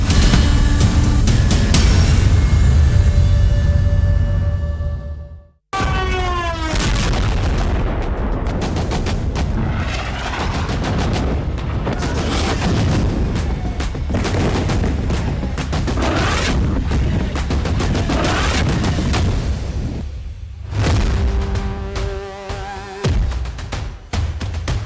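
Gunfire and heavy booms in a war zone in Turkey: loud, dense bursts of shots and explosions follow one another, broken by a sudden brief silence and a rising whistle-like tone, with rumbling blasts continuing afterward.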